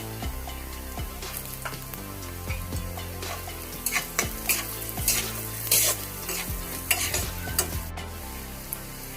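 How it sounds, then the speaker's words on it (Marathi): Onion frying in a pan with turmeric being stirred in, a constant close sizzle punctuated by repeated scraping and clicking of a spoon against the pan. "आता यामध्ये आपण अर्धा चमचा हळद ऍड करणार आहोत।"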